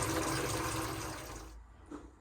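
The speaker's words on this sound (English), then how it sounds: "So here we've got your hot water running." Hot water running from a tap in a 2024 Elddis Signature 185 caravan, a steady close splashing rush that tails off after about a second and a half, leaving a faint drip.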